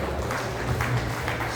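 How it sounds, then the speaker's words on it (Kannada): Audience clapping at a Lions Club honouring ceremony during a district governor's visit: a steady, dense wash of applause from a crowd, fairly loud and continuous throughout. "ತಾವೆಲ್ಲರೂ ಕೈ ಚಪ್ಪಾಳೆಯೊಂದಿಗೆ"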